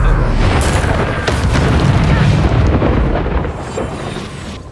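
A Confringo spell explosion in the video game Hogwarts Legacy, a loud, broad booming blast that rumbles on for several seconds before easing slightly toward the end.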